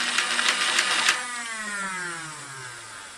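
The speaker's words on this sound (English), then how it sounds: "pull the bottom trigger, and now you have the motor going" A Nerf Rapidstrike blaster's flywheel motor whirs up with a few brief clicks, holds a high electric whine, then winds down as the pitch falls away over a few seconds, close and without talk.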